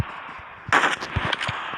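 Rapid automatic gunfire from a P90 submachine gun in a video game, a loud burst of quick shots with a few trailing individual cracks, close and sharp with no talking.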